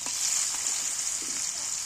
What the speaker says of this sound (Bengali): হলদি দিয়ে নুন আর হলদি দিয়ে আলুগুলো ভাজলে আলুগুলো দেখতেও কিন্তু ভালো হয়